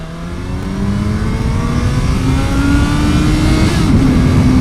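A motorcycle engine drones steadily and rises in pitch as it revs during a morning ride, picked up loud and close by a helmet-mounted mic, with wind rush and no talk.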